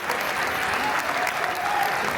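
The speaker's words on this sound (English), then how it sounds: "Et on les applaudit bien fort" A crowd applauds dancers after a boogie woogie main class routine at a dance competition, dense continuous clapping filling the hall.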